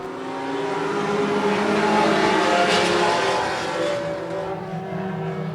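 Outlaw Mini race cars circle a short track during a 10-lap race, their engines roaring loud and sustained as the pack passes, the noise swelling and then easing slightly.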